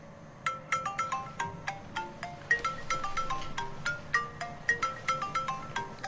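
A mobile phone rings with a repeating bright electronic melody, a steady series of short chiming notes that sound slightly muffled, as from inside a bag, with no talking over them.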